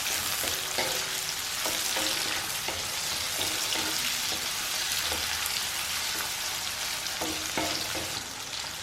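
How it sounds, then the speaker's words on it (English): Whole wheat noodles fry in a pan with a steady, dense sizzle that runs the whole time, broken by faint stirring scrapes and clicks, close and continuous with no talking. "We will just fry it like 2 minutes."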